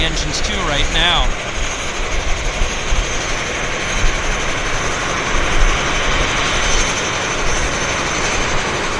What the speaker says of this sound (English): And our Central Mountain Dash 8 starting engines too right now.